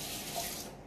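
Tap water runs into a kitchen sink while something small is rinsed, a steady hissing splash that fills the whole short moment with no talking.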